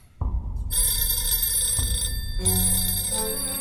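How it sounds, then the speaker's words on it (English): Telephone bell ringing in an anime episode, two loud electronic rings, each starting sharply and separated by a brief pause, with no talk. "ring, ring. Phone call. Phone call."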